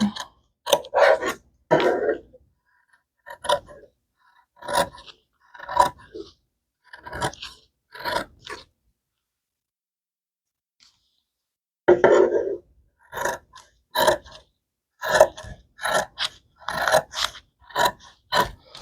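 A blade cutting fabric around a tote bag pattern piece, sharp dry scraping snips repeated in an irregular rhythm, close and clear, with a quiet pause midway before the cutting resumes.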